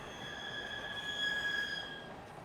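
An empty Canadian National freight train rounds a curve in Kentucky, its wheels squealing in a thin, sustained high whine over a low rumble, heard at a moderate distance.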